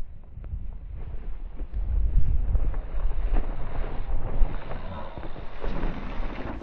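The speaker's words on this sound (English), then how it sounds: "Oh man, a little windy." Wind gusting across an outdoor mountain bike trail in Greater Zion, Utah, a steady low rumble buffeting the microphone, swelling and easing in strength throughout, with no talk.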